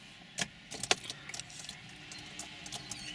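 A car key jangles and clicks as it turns in the ignition to switch it on, a few close metallic rattles and taps in a quiet car interior, with no engine running.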